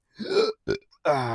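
Short bursts of burping after drinking Sprite: a longer belch, a brief second one, then a resonant, tonal burp, each loud and close.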